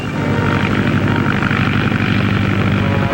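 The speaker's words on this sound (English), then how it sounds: "Remember, this plane's a lot faster than those squad cars." A propeller plane in a 1942 aviation serial flies steadily overhead, its engine a continuous loud drone with a rough low throb, unbroken for about three seconds with no voices.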